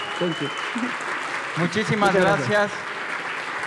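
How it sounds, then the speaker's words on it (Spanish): Applause from a conference audience after an animation talk, heard under someone speaking Spanish, with the clapping swelling toward the end as the talking continues. "Vamos a darle un fuerte aplauso"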